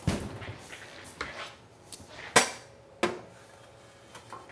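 Swordfish is taken out of an oven, a string of scattered clunks and metallic knocks of varying loudness as the door and pan are handled in a kitchen.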